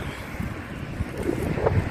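Large ocean waves wash against the shore in Japan under strong gusting wind, a continuous, loud rushing roar with no voices.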